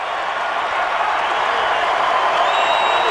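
A college basketball crowd at a 2005 Bradley versus Illinois State game roars steadily on its feet with cheering and clapping, a loud, unbroken wash of noise throughout.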